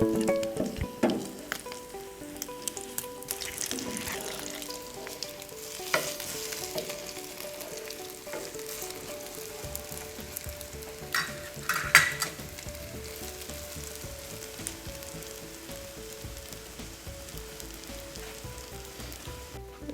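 Eggs for an anda ras breakfast fry in a pan after being flipped, giving a steady, close crackling sizzle with a few louder pops and light utensil clicks.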